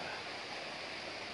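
A waterfall at Puerto Galera pours in a dense, even rush of white noise, close and loud, steady throughout with no talking.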